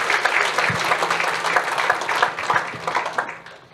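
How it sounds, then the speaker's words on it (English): Audience applause fills an award ceremony hall, a dense, steady wash of many hands clapping that holds loud for several seconds before starting to thin out at the end. "A big round of applause for Kiralee"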